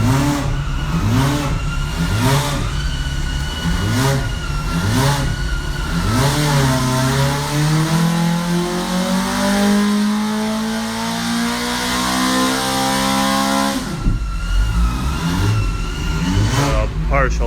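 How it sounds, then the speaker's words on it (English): A race car engine built by Esslinger Engineering revs loudly and close, with repeated throttle blips followed by a long rising sweep and a sharp drop back to idle, a voice heard briefly under it. "Everyone likes to hear the sound of the engine, right?"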